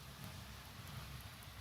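Rain falls outdoors over a medicinal herb garden, making a faint, steady, even hiss with no clear individual drops or voices.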